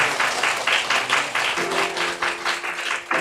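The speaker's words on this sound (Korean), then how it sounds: "박수로 환영하도록 하겠습니다." A church congregation applauds in welcome, steady dense clapping filling the room; partway through, a sustained accompanist's keyboard tone enters underneath the clapping.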